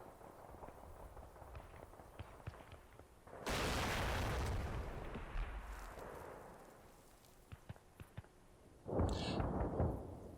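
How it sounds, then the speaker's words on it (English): A 155 mm artillery shell exploding close by in the video game Combat Mission Black Sea, a sudden heavy roaring blast that rolls on for a couple of seconds, followed later by a second loud burst amid distant gunfire. "That was just that 155 shell, wasn't it?"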